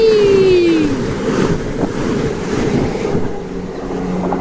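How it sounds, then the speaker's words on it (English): A fast train rushes through Angel Road station, a loud sustained roar with wind buffeting the microphone, preceded by a falling horn-like tone at the start and slowly easing. "Train's coming."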